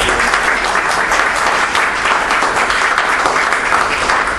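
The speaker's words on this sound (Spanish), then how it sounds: "Yo quiero que le demos por lo menos un aplauso al doctor." An audience at a formal ordinary session applauds a doctor, a loud, close, continuous wash of clapping from many people that stays even throughout.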